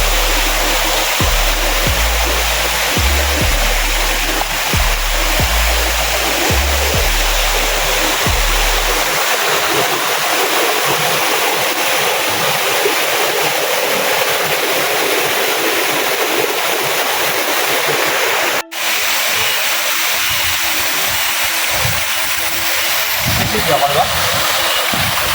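Curug Ciangin waterfall pours in a steady broadband rush, loud and close, with low thumping bumps over the first ten seconds and a brief break near the nineteenth second.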